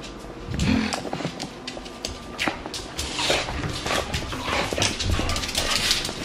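A dog plays energetically indoors, with close scuffling, thumps and short growly vocal bursts scattered throughout at a fairly loud level.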